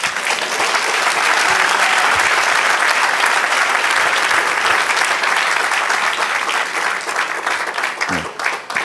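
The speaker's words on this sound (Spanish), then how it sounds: "Vamos a darle un aplauso al Señor." A church congregation bursts into loud, sustained applause during a Spanish-language worship service. The dense clapping fills the room evenly and only begins to taper off in the final second.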